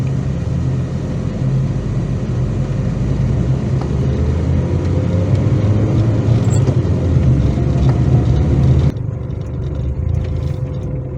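A car drives along toward a village, a steady close-up road and engine rumble from inside, with a faint rising engine tone midway before the sound drops sharply near the end.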